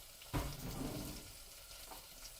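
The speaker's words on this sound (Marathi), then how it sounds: "ह्या एवढ्याच भाज्या टाकायच्या आणि ह्याला छान असं ढवळून घ्यायचं" Vegetables for South Indian sambar stirred in a pan: one clattering scrape followed by soft, faint sizzling and stirring, with no talk.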